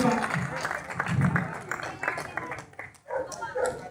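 An audience at a customs drug-smuggling simulation claps briefly in a loose, uneven patter that dips and returns, with voices talking over and around the applause.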